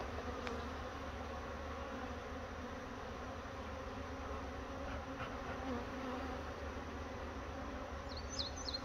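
A large honeybee colony in a five-frame nuc hive being smoked, giving off a dense, continuous close buzzing hum with a few faint chirps near the end.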